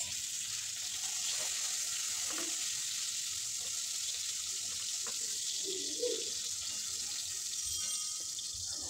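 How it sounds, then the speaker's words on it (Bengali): Pointed gourd (potol) frying in oil in a kitchen pan, a quiet steady sizzle that holds evenly throughout with faint clinks and no voices. "পটল ভাজানো আমার হয়ে এসেছে"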